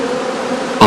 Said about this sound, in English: On sunny and warm October days, bees can still be seen flying before they cluster together for the cold winter months.